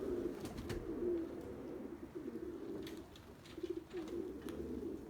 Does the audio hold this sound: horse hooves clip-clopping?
no